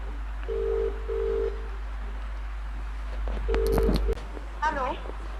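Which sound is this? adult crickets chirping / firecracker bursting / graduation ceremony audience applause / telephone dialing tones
telephone dialing tones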